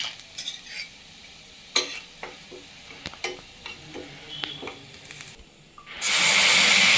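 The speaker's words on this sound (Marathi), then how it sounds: "एक चमचा मैदा घालायचा आणि थोडं परतून घ्यायचं." A spoon of flour stirred and sautéed in ghee in a pan: scattered scraping and clinking of the spoon, then a sudden loud, steady sizzle that takes over for the final second.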